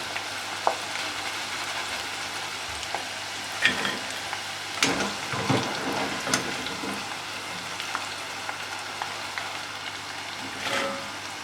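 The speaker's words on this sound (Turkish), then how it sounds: "Patatesler çok güzel kızardı." Potatoes fry steadily in hot oil, giving a constant close sizzle with occasional clicks and scrapes as they are stirred and lifted.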